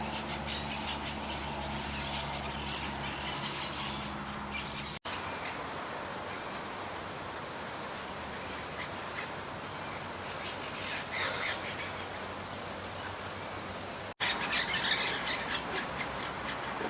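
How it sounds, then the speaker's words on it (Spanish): Faint bird calls from great pampa-finches and rufous-collared sparrows at a lagoon in Navarro, scattered chirps and squeaks over a soft outdoor background hiss. "Se nos acercaron algunas aves como las calandrias grandes y los chingolos."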